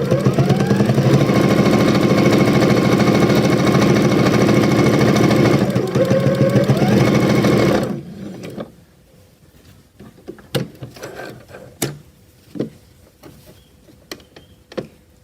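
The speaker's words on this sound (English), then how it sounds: "I've sewn down one side with my top stitching, and now I'm going to sew down this side." An electric sewing machine top-stitches down the side of layered fabric for a doorstop, its motor humming loud and steady for about eight seconds before stopping, followed by scattered clicks and handling knocks.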